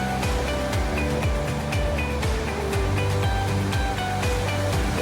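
A waterfall and flowing water along a waterway where people go magnet fishing make a steady, loud, continuous rushing roar that fills the whole stretch without a break, with no talk.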